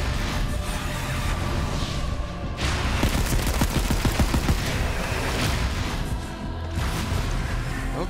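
Rapid gunfire fills a Borderlands 3 firefight: loud, continuous bursts of shots blend into a dense, unbroken barrage with a brief lull in the middle and again near the end.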